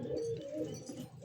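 Pigeons coo softly and close by as they gather to drink water, a brief low throaty burble lasting just over a second with no talk.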